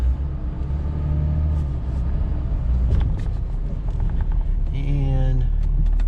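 A 2006 Dodge Ram Mega Cab diesel 4x4 truck runs with a steady low engine rumble as the transfer case is shifted into four-low, with a brief clunk and a rising whine near the end, close and loud.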